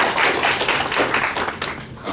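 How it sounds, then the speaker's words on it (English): Audience at a regional development conference applauding a keynote speaker, dense and loud clapping throughout. "Can we just have another round of applause for Stuart?"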